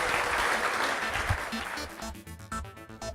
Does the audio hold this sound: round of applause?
yes